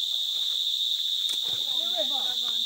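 Crickets chirp in a steady high-pitched drone during an early morning hike, continuous throughout, with a few low voices talking faintly underneath near the end.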